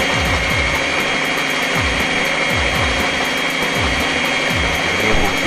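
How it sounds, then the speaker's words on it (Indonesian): A Turbo EHM9090 stand mixer runs at speed 1, its gears clicking and ratcheting steadily as they turn the bowl, a loud continuous mechanical whir with regular rhythmic clacks and no talk. "Kerja gear yang tadi untuk memutar wadah mixer."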